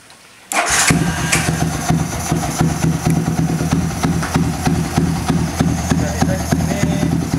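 Yamaha V-Ixion motorcycle engine fitted with a quickshifter starts after a moment of quiet, then settles into a steady, even idle around 1000 rpm, close and fairly loud.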